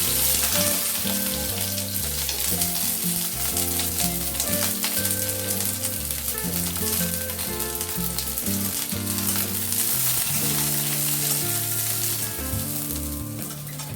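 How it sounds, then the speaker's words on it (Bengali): Onion, garlic and chili fry in oil, a loud, dense, unbroken sizzle that holds steady and close throughout, with no one speaking. "তেলের ওপরে এবার পেঁয়াজ রসুন আর লঙ্কাটা আমি একটু ভেজে নিচ্ছি।"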